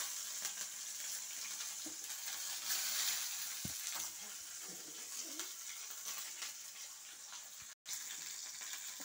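Onion, black cumin, white cumin, chilli and spices fry in hot oil in a pan, a faint, steady sizzle with a few soft stirring knocks and clinks, no talking.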